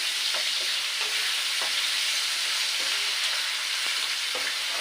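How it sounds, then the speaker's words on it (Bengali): Long-cut potatoes and vegetables with salt and turmeric fry for chowmein, a dense, steady sizzle close by, punctuated by light spatula taps as they are stirred slowly. "আস্তে আস্তে নাড়া দেবো আর আস্তে আস্তে ভাজিয়ে দেবো"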